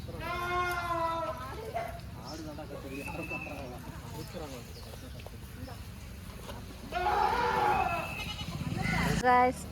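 Young goat kids, including male kids, bleat in wavering cries near the start and again toward the end, while people talk over them nearby.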